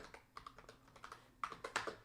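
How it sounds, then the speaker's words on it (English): Rapid keystrokes on a computer keyboard, clicking in uneven bursts up close, with a louder cluster of taps near the end. "I'm typing on the bottom."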